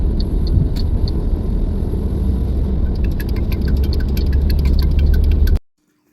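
Steady engine rumble and road noise from a car carrying a family on a road trip, one of three cars travelling together, with faint ticking over the drone until it cuts off abruptly near the end.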